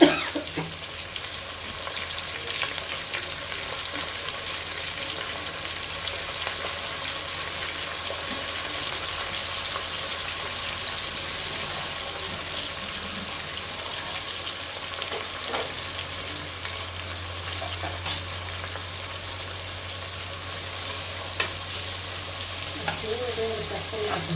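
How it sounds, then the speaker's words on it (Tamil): Onions being sautéed in a pan for chicken biryani, cooking until lightly browned, give a steady broadband sizzle that runs the whole time, with occasional soft stirring clicks and a low hum underneath. "ஆனியனை நல்லா லைட்டாக ப்ரௌனாக மாறுற வரைக்கும் நல்லா வதக்கிக்கலாம்."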